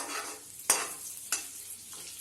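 Cumin with green cardamom and a bay leaf stirred in hot oil in a pan, a soft steady sizzle broken by two sharp scraping stirs.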